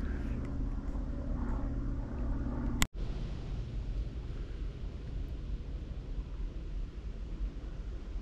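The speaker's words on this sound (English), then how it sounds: "Every time I'm trying to film something, I can hear a plane flying overhead." A small plane flies overhead near lakes in Reading, a steady low rumble with wind noise that holds for several seconds, broken by one sharp click near the start.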